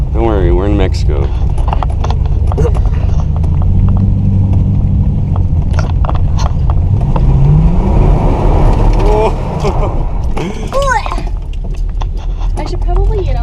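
A Camaro's engine revs and surges in a steady, loud drone while street drifting, its pitch climbing midway, with people talking over it.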